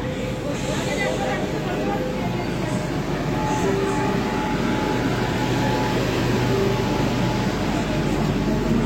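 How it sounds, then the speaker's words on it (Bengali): Kolkata metro train arriving at Howrah station, a sustained loud underground rumble and whine filling the platform, with people talking over it. "দেখতে দেখতে ট্রেন এসে গেল, বেশিক্ষণ কিন্তু ওয়েট করতে হলো না।"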